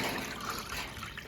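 Water poured into a large pot for village-style chicken dum biryani made with seeraga samba rice, a steady close rushing pour lasting throughout, with no talk over it.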